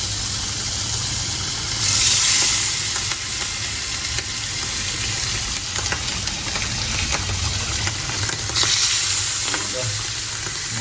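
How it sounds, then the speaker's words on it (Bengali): Loud, continuous sizzling and crackling of fish frying in hot oil, with a low steady hum underneath and occasional stirring scrapes. "এটা হলো মাছটা ভুনা করবো আমি"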